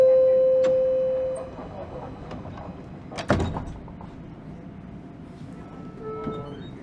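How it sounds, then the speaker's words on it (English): Subway doors on Toronto's Line 1 closing after a steady chime tone, with a sharp thud and rattle of the closing doors amid the hum of the train. "Please stand clear of the doors."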